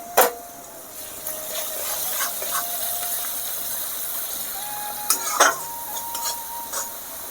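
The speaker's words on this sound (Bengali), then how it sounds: "লঙ্কার গুঁড়ো হলুদের গুঁড়ো আমি এখন কষিয়ে নেব" Chilli and turmeric powder sautéing in hot oil in a pan, a soft continuous sizzle broken by a few sharp metal clinks and scrapes of a stirring spoon.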